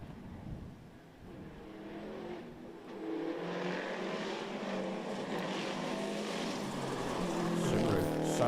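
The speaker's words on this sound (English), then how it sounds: "Sounds fantastic. Yeah, it does. That boxer engine just superb." Boxer-engined rally car on a Cork tarmac rally stage rises from a distant hum to a loud, rasping pass, the engine note swelling and holding strong toward the end.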